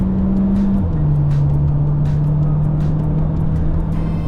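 2024 Chery Tiggo 7 Pro SUV accelerating hard on the North-South Highway, heard from inside as a loud, steady engine drone under road and wind rush, with the pitch dropping slightly as it shifts.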